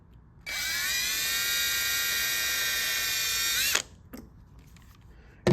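A hand drill fitted with a 1/16 inch bit bores a small hole into a CO2 dragster car body, one steady high whirring run lasting about three seconds, then stopping abruptly with a few light clicks.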